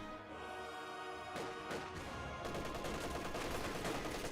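MG34 machine gun firing in Company of Heroes 2, a quiet, distant rattle of repeated bursts that grows denser over a few seconds amid battlefield noise.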